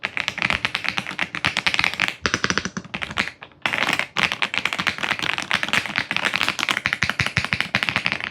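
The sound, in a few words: typing on Aula F75 MAX gasket mechanical keyboard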